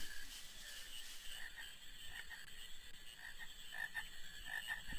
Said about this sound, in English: I smell frogs this way.